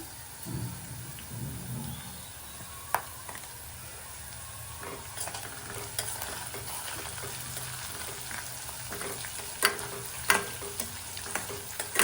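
Green chillies and turmeric frying in a pan for poha give a steady, fairly close sizzle, with a few light clinks and scrapes of stirring scattered over it and no voices.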